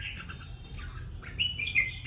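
A songbird chirps in short, high, bright calls over a low background rumble, growing a little louder toward the end, with no talking.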